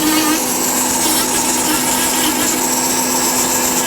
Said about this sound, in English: because I've done most of the rough out with the big heavy ball cutter